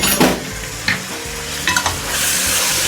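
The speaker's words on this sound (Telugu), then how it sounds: "ఇది కూడా ఇందులో వేసేస్తున్నాం మొత్తం. మసాలా కూడా బాగా వేగాలి," Masala fries in a pan for a fish curry, with a loud, steady sizzle and several sharp scraping strokes of the spoon as it is stirred, and no talk.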